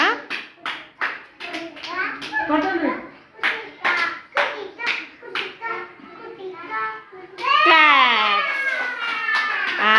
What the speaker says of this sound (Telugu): మీరు క్లాప్స్ కొట్టాలి కృతిక అక్క పట్టినాక